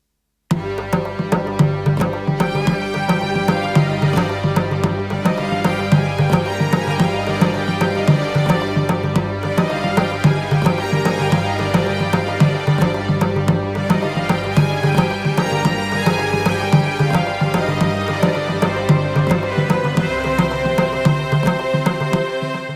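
A dense electronic loop from a Yamaha Montage M8x synthesizer plays continuously, layered sustained chords shaped by polyphonic aftertouch over a pulsing rhythmic pattern, steady in level throughout with no voices.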